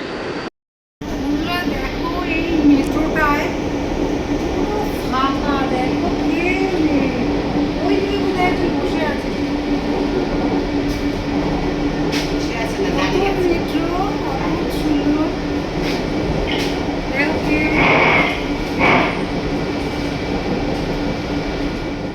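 Inside a moving Kolkata Metro train on the airport-to-Howrah route: a steady, loud rolling rumble and rail hum with a few higher squeals, under continuous talking voices.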